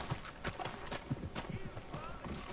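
Horse hooves clip-clop in a steady, uneven rhythm across a Western setting in the video game Red Dead Redemption 2, close and moderately loud, with scattered background game sounds.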